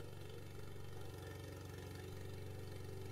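Small engine on a Vigorun remote control lawn mower running steadily near at idle, a continuous low rumble with a faint pulsing beat throughout.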